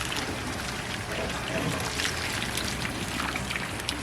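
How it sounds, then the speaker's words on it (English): Boiled ackee is strained in a kitchen while its cooking water pours off in a steady, hissing splash, continuous and close. "you strain your ackee like so."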